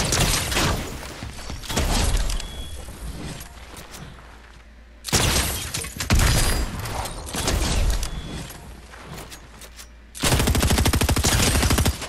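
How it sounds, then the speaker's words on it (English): Minigun firing in Fortnite, long sustained roaring bursts of rapid fire in three stretches, the last one loud and dense, separated by quieter gaps. "It's kind of insane that we got a minigun."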